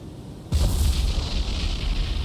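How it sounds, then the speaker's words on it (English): Ship magazine explosion in the naval combat game War on the Sea: a sudden deep boom that erupts abruptly and rolls into a sustained low rumble and roar, loud and close, with no voices. "Magazine explosion. Instant sink."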